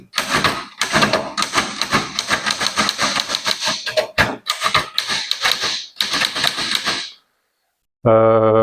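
Rapid, uneven clacking of keys struck on a Sperry Rand Concord manual typewriter, loud and close, in dense bursts with brief pauses, then a short silence before a sustained tonal mechanical sound at the end.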